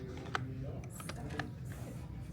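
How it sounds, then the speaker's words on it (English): Clicky mechanical keyboard in a small apartment, quiet scattered keystrokes tapping irregularly at close range over faint background noise. "I've been using a click-clacky keyboard"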